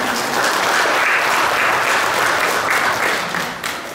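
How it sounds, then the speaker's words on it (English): A church congregation claps together at a Sunday Mother's Day service, a dense, steady wash of applause that holds strong for about three seconds and then begins to thin and fade toward the end. "yeah, we'll clap."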